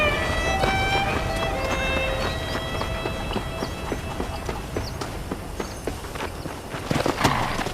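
Horse hooves clip-clop at a steady walking rhythm in the Red Dead Redemption western game, sharp regular knocks near and clear over ambient game music and background tones, with no talk.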